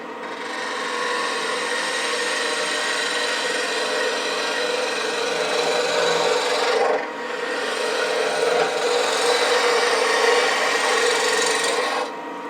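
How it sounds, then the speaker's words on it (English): A spindle roughing gouge cuts a long sweep along a wooden stool leg spinning on a lathe, making a loud, steady scraping rasp that dips briefly twice as the tool pass shifts. "I'm going to make this long sweep down through here with the spindle roughing gouge"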